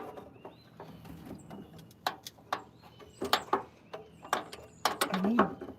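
Parts of a 1929 Buick fuel pump are tightened with a tool, making close, intermittent metallic clicks and ratcheting ticks in uneven bursts that grow denser toward the end, over a quiet background.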